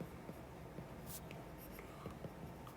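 Pen or pencil writing an example sentence by hand on paper or a board during an English grammar lesson, a soft continuous scratching with faint strokes, close and fairly quiet, no talk.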